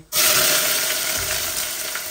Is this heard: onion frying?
yes